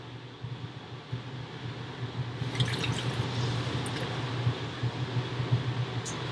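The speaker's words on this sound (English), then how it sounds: "Now I'm going to take some half and half and pour about, I'd say, a cup in." Half and half poured into a pot of corn chowder, a soft steady liquid trickle and dripping under a constant low kitchen hum, close and moderately quiet with no talking.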